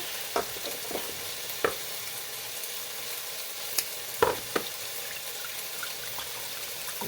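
Sweet chili sauce and soy sauce hit a hot pan and sizzle steadily at close range, with a few sharp clinks and scrapes of stirring over the constant frying hiss.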